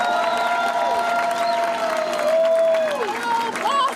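A crowd applauds at a 60th anniversary freedom rally; steady, dense clapping runs throughout, mixed with voices and tones carrying over it.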